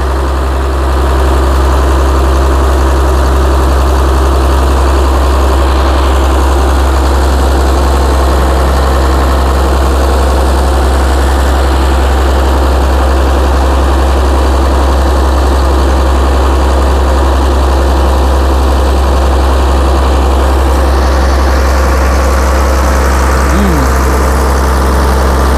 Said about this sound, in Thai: เครื่องเต็มอัตราครับผม